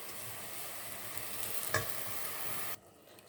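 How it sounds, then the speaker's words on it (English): Coconut cooking with white sugar in a pan gives a steady soft sizzle with faint stirring scrapes, and one brief louder clack in the middle before the sound drops away near the end. "You want to let it cook with the sugar in there."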